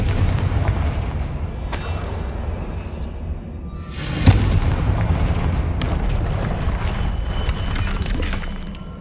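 Confringo fire spell from the Hogwarts Legacy video game: a deep booming blast with crackling debris and rumbling tail, loud and near, followed by a second burst and lingering roar.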